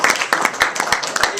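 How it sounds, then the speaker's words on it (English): Audience applause at an evening sales presentation in Winona, a dense run of claps close by with mixed voices and cheering underneath, lasting the whole moment. "you guys can give me a round of applause"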